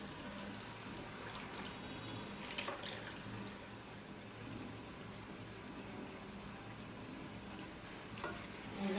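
Mutton curry being stirred in a pan, with a steady broadband sizzle and occasional scraping and clinking of a utensil, moderately close and continuous with no talking.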